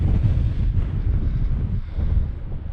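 Blustery wind buffeting the microphone on a headland of the Welsh coast near Aberdaron, a continuous low roaring rumble with gusty swells and no voices.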